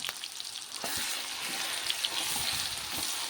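A paste of coconut, green chilli, garlic, ginger and coriander fries in a pan, giving a loud continuous sizzle with brief stirring scrapes and clicks along the way.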